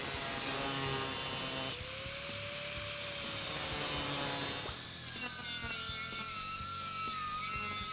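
A 4.5-inch angle grinder fitted with a flat disc shapes a small metal money clip, a steady loud whine with grinding texture that dips and shifts in pitch as pressure on the workpiece changes, running continuously throughout.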